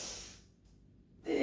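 A single slow, soft inhalation through the nose during a yogic breathing exercise from the Five Tibetans routine, close and quiet, rising gently then fading into near silence before a brief louder breath at the end.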